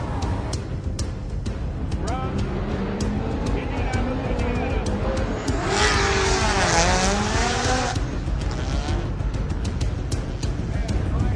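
A race car on Falken tires driven hard, its engine roaring steadily and loudly throughout, with a burst of tire squeal and rising revs in the middle.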